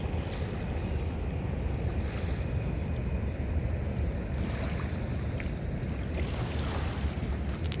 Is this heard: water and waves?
yes